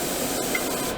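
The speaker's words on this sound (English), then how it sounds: "Try to keep your airbrush somewhat perpendicular to the part." An airbrush with a 0.5 needle sprays dark sea grey paint onto a 1/48 Zvezda SU-57 model kit, a steady close hiss that holds at an even level throughout with no voices.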